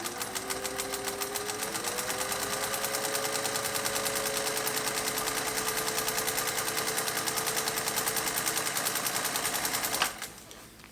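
A vintage green Singer 201-2 sewing machine, fitted with an LED bulb, stitches fabric in a fast steady whir with rapid needle ticking for about ten seconds, then winds down and stops.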